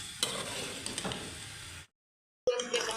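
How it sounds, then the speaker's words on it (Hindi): Potatoes sautéing in a pan for aloo matar give a close, steady sizzle with scraping stirs, then a short silence and the frying starts again. "और अच्छे से इसको भूनेंगे तकरीबन 5 से 6 मिनट तक"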